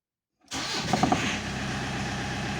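A car engine is cranked on an engine that is hard to start and fails to catch: a sudden onset of rough, churning starter noise continues steadily, fairly close.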